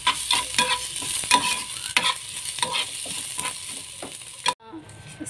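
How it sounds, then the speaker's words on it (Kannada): Onions fry in a pan with a steady, close sizzle while a utensil stirs and scrapes at a regular pace; the frying noise cuts off abruptly near the end. "ಫ್ರೈ ಮಾಡ್ತೀನಿ"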